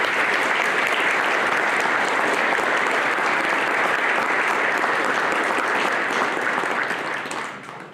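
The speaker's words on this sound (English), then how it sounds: "Please join me in applauding Jerry Ann Dubry for her 29 years of service at South Plains College." Sustained audience applause at a South Plains College fall retirement ceremony, a steady dense clapping crowd that holds loud for about seven seconds before starting to taper off at the end.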